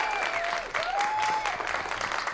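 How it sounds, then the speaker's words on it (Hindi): Applause from a television talent-show audience after a flamenco guitar performance, steady clapping with a sustained tonal whistle or cheer gliding through it, lasting about two seconds. "ताली ताली ताली ताली"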